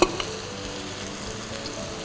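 Tomatoes and water sizzle in a hot spiced tadka, with a quiet, even hiss of frying and a brief stir at the start.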